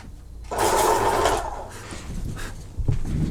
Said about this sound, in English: Just sharpening the pencil.